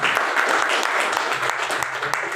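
An audience claps loudly and steadily at a gathering promoting AWPL products, dense applause filling the whole moment with faint voices beneath.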